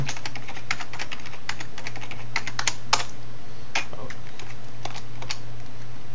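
Rapid keystrokes on a computer keyboard while an IP address is entered during router configuration, close and clear, in quick irregular bursts over a steady low hum.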